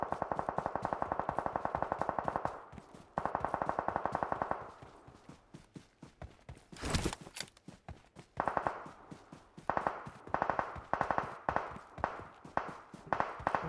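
Automatic gunfire from a bot in a battle royale shooter, with long sustained bursts and shorter rapid volleys repeating throughout, loud and close with brief gaps between.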